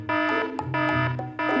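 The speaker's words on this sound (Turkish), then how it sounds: "Bakın, alarm da öttü." Electronic alarm in a children's cartoon blares in three repeated pulsing bursts, each a harsh buzzy tone, loud and close with brief gaps between.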